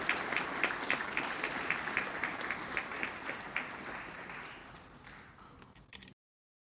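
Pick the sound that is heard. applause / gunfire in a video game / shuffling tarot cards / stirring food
applause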